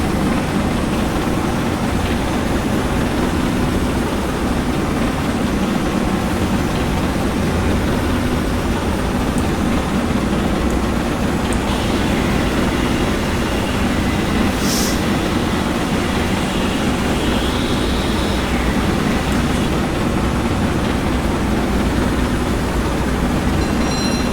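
A Castle Class steam locomotive hauling a train through a tunnel with firebox doors shut and blowers open, a loud, dense, unbroken roar and rumble that stays constant throughout.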